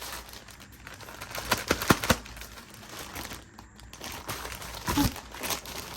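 Plastic packaging on watercolor palettes crinkles and crackles as it is unwrapped and cut apart, with a few sharper crunches standing out among steady close rustling.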